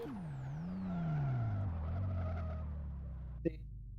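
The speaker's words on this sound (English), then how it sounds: "we see Hautanen accelerating, throwing the car sideways" A race car engine revs and sweeps down in pitch as tires squeal through a long sideways slide in a drift racing video game, ending with a brief sharp clack.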